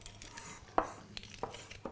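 Fresh parsley being chopped with a knife on a board, a few sharp, close, separate knife strikes against a quiet kitchen background, with no voices.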